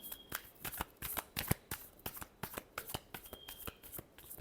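Tarot cards shuffled by hand in a steady run of crisp riffling snaps and soft slaps, around a dozen quick bursts close up, with no talking.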